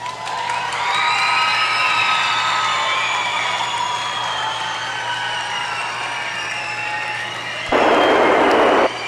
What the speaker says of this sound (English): Cheer, guys.